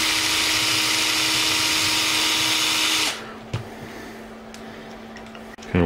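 Power drill bit working back and forth to enlarge a hole during an RC jet boat flex shaft kit install, a steady high whir that cuts off abruptly partway, followed by a few small clicks and knocks.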